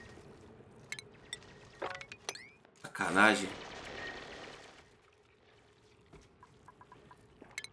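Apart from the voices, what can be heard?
character urinating into water in Oxygen Not Included video game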